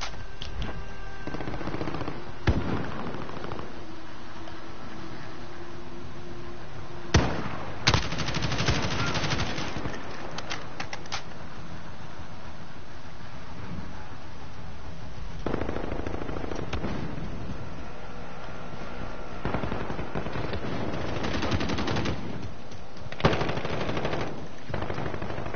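Sustained Call of Duty Modern Warfare gunfire, with rapid machine-gun bursts and scattered single shots over a dense, continuous battlefield din. Louder volleys recur at intervals across the stretch.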